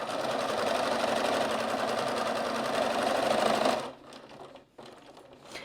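A sewing machine stitches a quilt in a fast, even, close mechanical run, then stops abruptly, leaving a quiet room with faint handling sounds.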